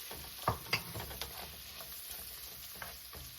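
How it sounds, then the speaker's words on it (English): Onions frying and slowly caramelizing in a pan, a faint, steady low sizzle with a few soft stirring clicks and scrapes near the start, no talk. "Let my onions get nice and caramelized."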